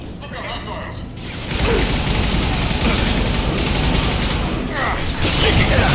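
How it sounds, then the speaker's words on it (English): Dense battle gunfire in Mass Effect 2, with mercenaries shooting, a sustained roar of overlapping shots and mechanical clatter that swells after a quieter opening and keeps going under a voice. "Blue Suns and Vorcha shooting anything that moves."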